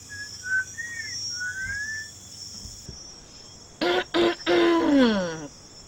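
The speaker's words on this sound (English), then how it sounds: "Did I just hear a whistle?" Someone whistles a few short melodic notes that rise and slide, fairly clear against a quiet background, and a brief voice-like sound follows afterward.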